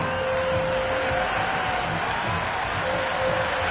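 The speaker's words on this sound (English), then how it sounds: "The crowd are loving every minute of this match." Steady, dense crowd applause and cheering at a simulated IPL Eliminator match between RR and SRH in the cricket video game Cricket 26 on PS5, a continuous, even wash of noise with no talk over it.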